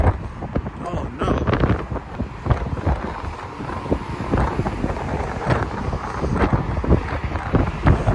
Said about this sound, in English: Yo, this wind is no joke.